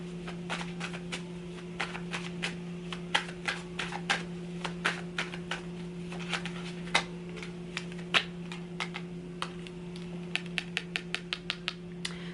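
Tarot cards are shuffled and flicked in quick crisp snaps and riffles, irregular then faster toward the end, over a steady low electrical hum.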